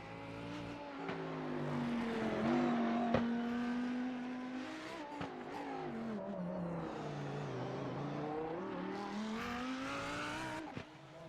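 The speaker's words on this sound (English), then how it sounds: "Could hear the car roaring through." A GT3 race car in the iRacing sim at Long Beach roars past, its engine note rising and falling through gear changes with a steady loud drone and brief tire scrubs, no voices.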